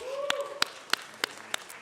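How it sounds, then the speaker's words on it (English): A handful of slow, evenly spaced hand claps at a city council meeting, about five distinct claps over a faint tonal background with no full crowd swell. "Let's give them a round of applause."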